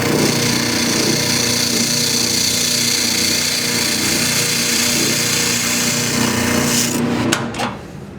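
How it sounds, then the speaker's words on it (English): A spindle sander hums and rasps loudly and continuously against a wooden trestle table part, then winds down with a few knocks at the end. "I'll just touch a little bit on the spindle sander to just try and clean it up just a little bit"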